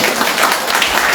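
A church congregation claps loudly in praise, a thick, continuous roar of many hands heard close and filling the room for the whole moment.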